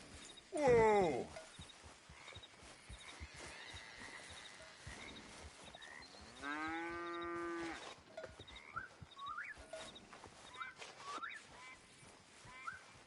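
Cattle in Red Dead Redemption 2 give a couple of loud, drawn-out moos, one short and one long, amid horse snorts and hoof clops in an open outdoor game scene.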